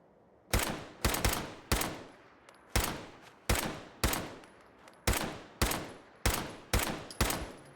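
About a dozen evenly paced gunshots in a survival video game, each a sharp loud crack with a short decaying tail, fired alone at a deliberate rhythm with no talk.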